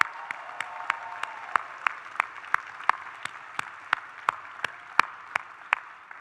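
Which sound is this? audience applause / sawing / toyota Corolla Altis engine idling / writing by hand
audience applause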